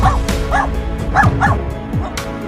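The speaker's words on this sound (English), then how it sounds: "Dog." A dog barks several times in quick succession, loud and close. The short yipping barks come at a fairly even rhythm with brief whimpering tones between them.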